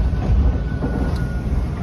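A TTC subway train runs between Warden and Kennedy stations, heard from inside the car as a loud, continuous low rumble of wheels and motors with no talk.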